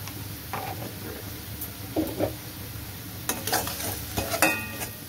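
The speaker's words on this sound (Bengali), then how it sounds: "এবার মশলাটাকে ভালো করে কষিয়ে নেব।" Spices for moong dal with fish head sautéing in a pan, a steady sizzle broken by several scraping stirs and clinks of the spoon against the metal, close and fairly loud.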